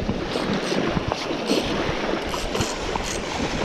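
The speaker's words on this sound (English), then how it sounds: "It's a big barracuda, guys. Look how it's splashing." Broadband splashing and churning water from a large hooked barracuda at Qatar's Inland Sea, irregular and fairly loud, with sharp bursts scattered through the short stretch.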